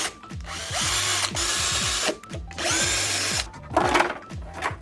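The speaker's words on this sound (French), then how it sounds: "je vais commencer par finir de dévisser le cache batterie" A power screwdriver whirs in repeated bursts as it backs screws out of the battery cover on a Xiaomi M365 electric scooter, with short pauses between runs and the motor pitch sliding as each screw loosens.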